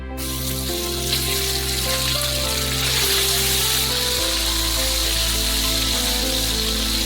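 Chicken pieces fry in oil in a frying pan, giving a steady, close, hissing sizzle that runs throughout under background music, with no talk.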